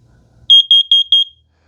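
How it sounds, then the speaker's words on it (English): A First Alert CO615 carbon monoxide detector in test mode sounds four loud, evenly spaced high-pitched electronic beeps in quick succession, each with a slight double pulse, then falls silent. "4 beeps"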